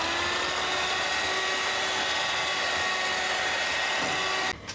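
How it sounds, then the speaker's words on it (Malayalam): An electric hand mixer whirs continuously through cake batter in a home kitchen, a steady high buzzing drone that cuts off abruptly at the very end. "ഇതെല്ലാം കൂടെ ഹാൻഡ് മിക്സർ കൊണ്ടുവന്ന് മിക്സ് ചെയ്ത് കൊടുക്കാം"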